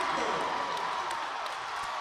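A home crowd at a high school varsity basketball game in Panther Arena cheers and applauds steadily as a wide, sustained roar of clapping and voices, while an announcer talks over it.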